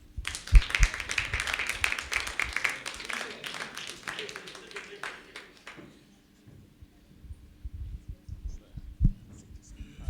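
Audience applause welcomes a guest onto the stage at a talk event. Dense, steady clapping fills the first six seconds and then gives way to a voice speaking.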